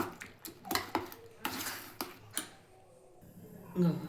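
Fork or spoon clinking rhythmically against a bowl while beaten eggs are mixed for a masala omelette, a series of close, bright metallic taps with short pauses between strokes.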